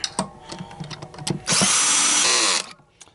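A power drill on its torque setting drives screws into steel and aluminum parts while a vacuum cord is repaired. A few light clicks and handling knocks come first, then one loud whirring burst of about a second, close by.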